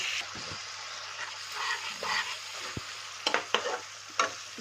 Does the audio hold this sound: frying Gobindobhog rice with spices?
yes